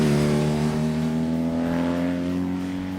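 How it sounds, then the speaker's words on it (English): Motorcycle with a stock Akrapovic exhaust holds a loud, steady, deep droning rev that sags slightly toward the end, close by and continuous, with no talking over it. "the exhaust on this thing is a Akrapovic, you know, stock. Sounds really cool."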